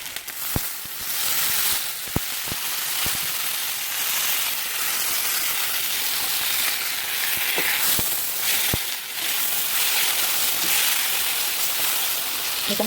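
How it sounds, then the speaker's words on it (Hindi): About two tablespoons of vinegar hit chicken chow mein in a hot pan, setting off a steady, loud hiss and sizzle that runs throughout, punctuated by a few sharp clicks of the spoon or pan. "मैं थोड़ा सा इसमें शामिल करूँगी विनीगर, तकरीबन 2 टेबल स्पून"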